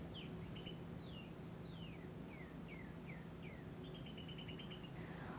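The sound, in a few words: young hawks' squeaky high-pitched calls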